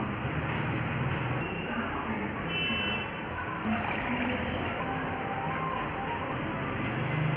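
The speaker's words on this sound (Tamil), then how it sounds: "இப்போது வந்து ரெண்டரை மடங்கு தண்ணி வந்து நாங்கள் போட போகிறோம்" Water poured into rice in a cooking pot for South Indian tomato rice, a steady close splashing pour that runs continuously without pause or speech.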